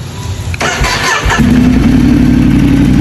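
A Ducati Multistrada 1200 Enduro fitted with a Termignoni full exhaust cranks briefly, then fires and settles into a loud, steady, deep idle close by, with no talking.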